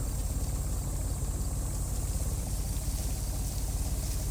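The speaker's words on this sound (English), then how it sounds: "that might be the engine I heard in the video" An engine in the video game Secret Files 3 idles steadily with a low, even throbbing pulse, fairly quiet and constant throughout.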